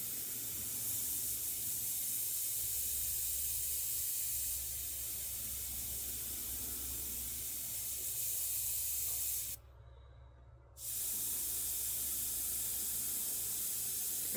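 A Gaahleri Aventus airbrush spraying fine paint lines at low pressure gives a steady, close airy hiss that runs almost unbroken, with one brief pause near the end before it resumes.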